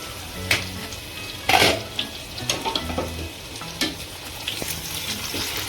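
A spoon stirs green potatoes sizzling in a hot pan, steady frying crackle broken by several scraping and clinking strokes against the metal, close and moderately loud.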